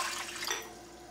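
Water pours steadily into a pot for enchilada soup made from a Frontier soup mix, a short continuous rushing splash heard up close with no voices.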